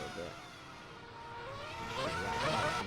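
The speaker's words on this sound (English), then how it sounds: "It's a big group of cars pretty much racing each other." Formula 1 cars in a qualifying session at the Spanish Grand Prix, a group passing at a distance with engine whine rising and swelling toward the end, fairly faint overall.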